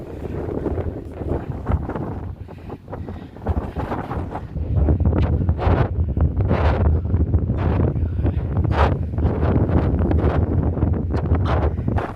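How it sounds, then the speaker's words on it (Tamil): Strong wind gusts across a dangerous mountain, roaring and buffeting the microphone in loud surges that swell and ease, with constant low rumble and no voices. "காற்று வேற பயமாக இருக்குங்க, தள்ளுதுங்க கொண்டு போய்."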